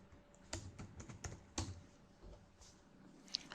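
Computer keyboard keys clatter in a quick, uneven burst as a search is typed, close and fairly quiet, with scattered clicks and short pauses and no voices.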